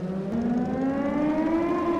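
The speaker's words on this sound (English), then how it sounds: "Wait, I heard this siren from my apartment in Bright City every once in a while." A civil defense siren from the video game Titan Chaser wails steadily and loudly, its pitch slowly rising in one continuous, unbroken tone with no talk over it.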